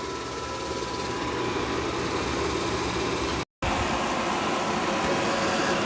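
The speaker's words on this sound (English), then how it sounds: "So it's going to do all the mopping and vacuuming of this hardwood floor." Robot vacuum mopping and vacuuming a hardwood floor gives a loud, steady whirring drone that runs nearly continuously, broken only by one brief dropout.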